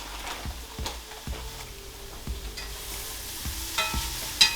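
Vegetables stirred in a frying pan for keto cauliflower fried rice with Korean-style BBQ pork, a soft sizzle under repeated scraping, clacking stirs at a steady, unhurried pace.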